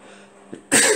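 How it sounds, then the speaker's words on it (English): A single loud, sharp sneeze right up close, preceded by a small breathy catch. "hang on, I'm going to sneeze"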